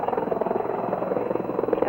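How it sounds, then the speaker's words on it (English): Helicopter approaching the St. Patrick's area in Iowa during a papal visit in 1979, a steady loud rotor drone filling the whole stretch, with faint crowd or voice sounds mixed beneath. "And there you can see the helicopter is"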